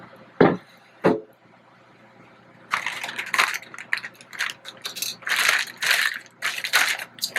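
Frozen Ore-Ida extra crispy crinkle-cut fries are poured into a foil-lined Nordic Ware stovetop kettle smoker, starting with two sharp knocks and then a loud, rattling crunchy tumble in uneven bursts.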